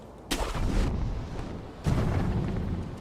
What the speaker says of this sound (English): Okay, so they're saying use your firecrackers.